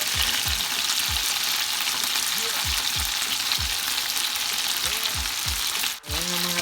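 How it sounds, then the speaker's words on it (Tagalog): Garlic, onion and chili fry in a pan beside chicken, giving a loud, steady sizzle with repeated stirring scrapes and a brief break near the end. "ilagay na natin yung ating garlic, ang ating onion at saka chili"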